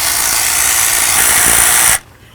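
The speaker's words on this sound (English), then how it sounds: "Let's go ahead and remove this bolt." Power tool, likely a drill or impact driver, removing an idler pulley bolt while replacing the water pump on a 1994-2004 Chevy S-10; a steady loud whirring runs for about two seconds and then cuts off abruptly.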